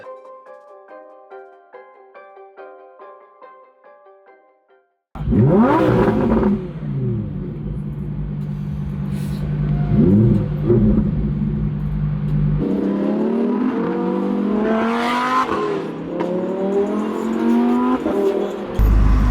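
A car engine revs hard and climbs in pitch with rising whirs, sustained and close, following a short quiet musical intro; brief tire-squeal-like sweeps cut through the engine noise.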